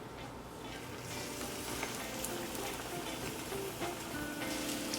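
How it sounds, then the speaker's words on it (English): Steady sizzling and crackling of paneer pieces frying in hot oil in a pan, a continuous bubbly hiss with occasional small pops. "now we will start frying."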